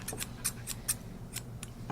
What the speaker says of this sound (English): just hold the scissors there and work the scissors